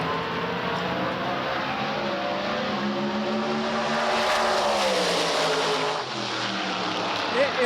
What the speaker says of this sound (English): 632 big block engine running on nitrous.